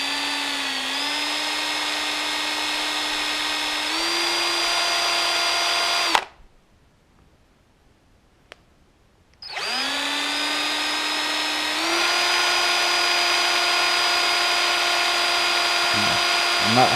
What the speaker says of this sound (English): we're back with a buffing wheel